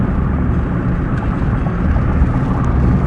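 Steady car engine droning at around 3,000 RPM on a Southern California mountain road drive, a continuous loud low rumble with no pauses or talk.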